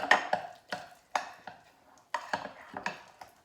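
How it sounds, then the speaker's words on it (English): A spoon works sourdough flour and water together in a bowl, giving a series of quiet, irregular scraping knocks and clinks spaced about half a second apart, close and alone. "So I'll just take a minute to mix it up."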